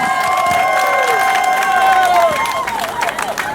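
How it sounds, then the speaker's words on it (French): At an outdoor campaign rally in Owendo, a large crowd applauds and cheers loudly, with whistles and shouting voices rising over continuous dense clapping. "on applaudit pour cette fidélité reconnue"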